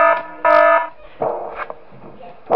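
Alarm blaring in the horror game Five Nights at Smash Bros 3 during night 6, a loud harmonic tone sounding in two bursts followed by scattered sharper noises.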